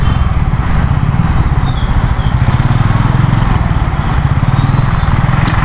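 A Royal Enfield Meteor 350 motorcycle engine runs steadily and close up while riding, a continuous throbbing rumble with constant loudness throughout.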